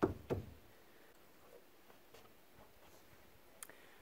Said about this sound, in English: it looks like just a couple of knocks with the hand's enough